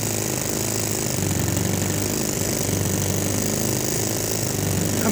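A small RC model engine runs continuously close by with a loud, dense, rattling buzz that holds steady throughout.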